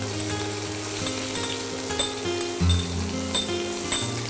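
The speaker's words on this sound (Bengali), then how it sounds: "এর মাঝে আমি তেলটা দিয়ে পেঁয়াজ ভেজে নিচ্ছি" Onions frying in hot oil in a pan, a steady close sizzle and crackle with an occasional clink of a utensil against the pan, no voices.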